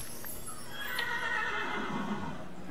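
A horse neighs in the Minecraft video game, a clear whinny rising and falling over a few seconds with faint background game ambience.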